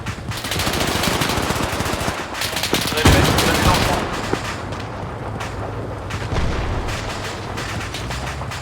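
Sustained machine gun bursts from a Browning aimed at Panzer III or IV tanks during a Spearhead 1944 wartime defense mission, loud and continuous with rattling fire and a heavier blast near the middle.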